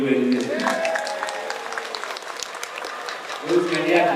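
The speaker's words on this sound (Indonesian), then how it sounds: "Tepuk tangan buat ibu-ibu Indonesia." Audience clapping at a political campaign rally in Ciamis, Indonesia, a steady wash of applause that swells near the start and again at the end, with a man's amplified speech carrying over it.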